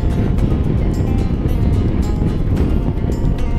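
BMW C400GT scooter on the road, a steady engine hum mixed with rushing wind noise throughout, close and fairly loud, no speech.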